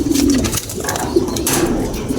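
Racing pigeons of Benito and Drapa bloodlines coo steadily throughout, low rolling calls overlapping in a busy loft with faint higher chirps behind them.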